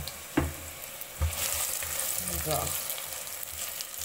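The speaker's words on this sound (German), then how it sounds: "ich habe vorher meinen Topf gehitzt und also Öl dazu gegeben." Oil sizzling and frying in a heated pot while Persian carrot stew with plums is being prepared, a steady bright hiss with a couple of soft clunks, close and continuous, with a brief spoken word.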